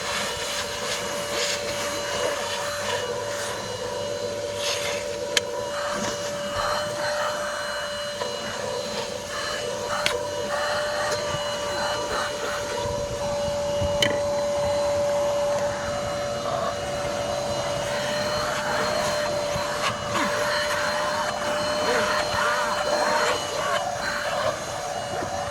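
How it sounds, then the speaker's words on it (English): An APOSEN H20-4 handheld car vacuum cleaner runs continuously with a steady whine and airy roar, close and fairly loud throughout, with occasional small rattles and no clear talk. "let's see what else we can vacuum up with this thing"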